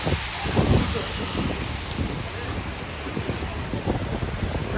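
Heavy rain falls steadily and loudly on surfaces, a dense continuous hiss with low rumbling underneath and a brief muffled voice near the start.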